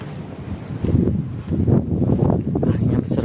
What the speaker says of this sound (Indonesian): Anginnya besar banget teman-teman.